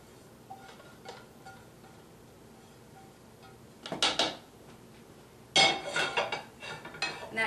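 Spoon clattering in a pan while corn salad is stirred, the pan handle fitted with a guard: light metallic clinks early, then two louder bursts of scraping and clanking near the end, with no talking.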